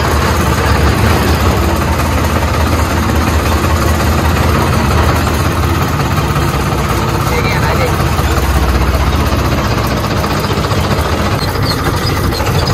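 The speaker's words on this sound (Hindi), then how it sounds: "गाइस देखो रीपर चल रहा है" A reaper machine runs during a wheat harvest, a loud, continuous engine drone with a low rumble that stays steady throughout, while people talk over it.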